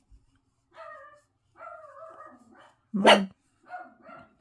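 Dogs barking indoors at night: a few short, rising yips and barks, then one sharp, loud bark near the middle, followed by more softer yelps; a brief spoken word appears at the start.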